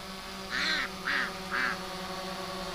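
Three quacks from ducks upset by a hovering drone sound in a quick, evenly spaced series over a steady mechanical drone hum.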